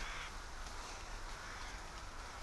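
A huge flock of rooks massing over a bamboo grove in Ulsan makes a dense, constant din of overlapping caws, a distant crowd of calls with no single bird standing out.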